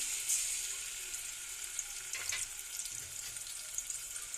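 Onion paste frying in a little oil, a soft steady sizzle with faint crackles and a few quiet stirring scrapes, no voices.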